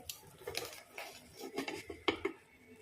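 A spoon scrapes and clinks against a rice cooker pot while egg biryani is stirred up from the bottom, giving faint, irregular metallic taps and scrapes close by.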